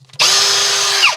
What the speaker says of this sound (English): time to drill us some holes.